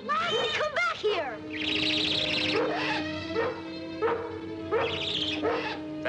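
A dog barks and yelps in several short, sharp bursts outdoors, with a bird's harsh cries mixed in, while a voice speaks nearby.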